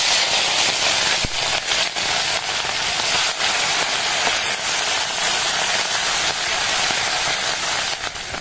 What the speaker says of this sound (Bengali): তেল গরম হয়ে গেছে, তেলের মধ্যে মাছগুলো দিয়ে ভেজে নেব।